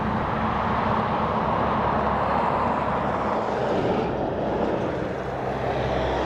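An airliner at Dublin Airport gives off a steady, broad engine roar that holds at an even level throughout, with no voices.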